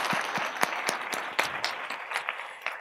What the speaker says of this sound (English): Let's give a round of applause to If Not Now.